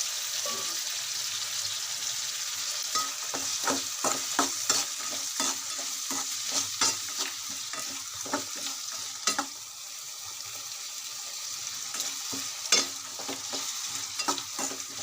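Onion, tomato and pepper frying in a pan, a steady sizzle broken by frequent rhythmic scrapes and clinks of a stirring spoon, close and clear with no voices.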